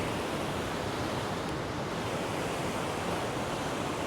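Surf breaking on a sandy beach where sand whiting feed close in under the white water, a steady roaring wash of broken waves filling the whole stretch with no pauses.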